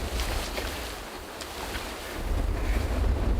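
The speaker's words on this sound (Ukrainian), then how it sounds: "Бачимо сильний і сильний вітер." Strong wind roars steadily against the microphone while fishing, rumbling low and growing louder toward the end, with a faint wash like water in the background.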